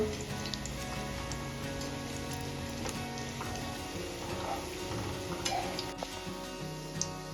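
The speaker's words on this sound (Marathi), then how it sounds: "आता आपल्याला भजे छान तळून घ्यायचे आहे गोल्डन कलर येईपर्यंत" Onion and potato bhaji deep frying in hot oil, a steady dense sizzle and bubbling that runs throughout, close and fairly loud, with occasional stirring clinks and no talk.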